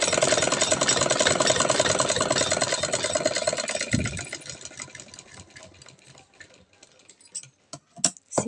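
A sewing machine runs steadily while stitching a salwar pocket, a dense continuous whirr for about four seconds that slows and thins out into a few scattered stitches and clicks near the end.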